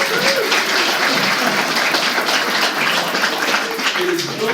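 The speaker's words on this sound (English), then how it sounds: "Round of applause for that." An audience applauds a 1978 Star Wars Holiday Special animator, loud continuous clapping with a few faint cheers and voices mixed in.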